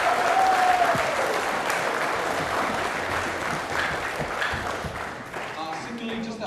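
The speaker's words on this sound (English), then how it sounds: "give them a quick round of applause" Sustained audience applause fills a school event hall at Naenae College, dense steady clapping from a crowd that slowly thins toward the end, with faint voices underneath.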